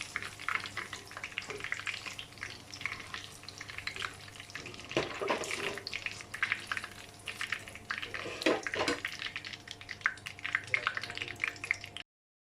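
Cauliflower pieces deep frying in hot oil, a steady crackling bubble that runs throughout, with a few louder clatters of stirring or lifting near the middle.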